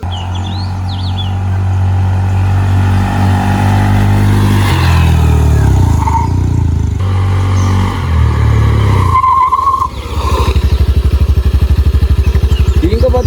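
A Honda Dio 125 scooter engine runs close by with a steady droning hum that rises and falls in pitch as it revs, dips sharply around ten seconds, then settles into a rougher idle.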